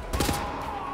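Gunfire while shooting Nazis in the first-person shooter Wolfenstein: The New Order, a quick burst of several close, sharp shots lasting under a second.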